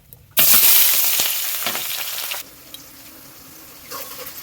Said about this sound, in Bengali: এবার এর ভিতরে আমি পেঁয়াজ দিয়ে দেবো।